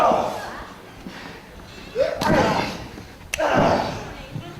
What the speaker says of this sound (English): You could hear the smack of flesh on flesh there.